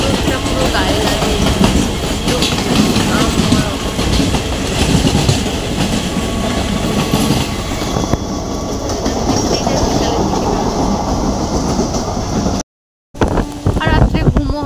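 A moving passenger train on a ride rumbles steadily with rhythmic clickety-clack and wind buffeting the microphone, loud and continuous, broken by a moment of silence near the end.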